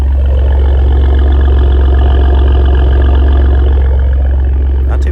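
A 2021 Ford F-150 with the 3.5 EcoBoost and Corsa exhaust idles on a cold start, a loud, steady, deep exhaust drone holding even throughout.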